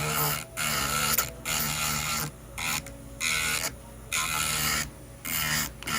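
An electric nail file set on a low speed roughens the shine off a fingernail surface, giving close, raspy whirring bursts in about six short passes separated by brief pauses, with no talking.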